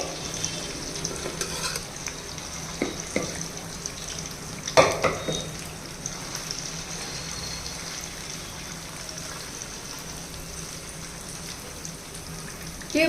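Mutton pieces fry in hot oil, added a few at a time, giving a steady close sizzle and crackle with occasional stirring clatter and no talk.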